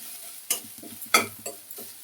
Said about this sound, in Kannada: ನಾನು ತೆಂಗಿನ ತುರಿ ಹಾಕಿ ಹುರ್ಕೊಳ್ತಾ ಇದ್ದೀನಿ